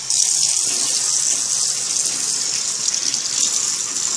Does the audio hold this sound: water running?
yes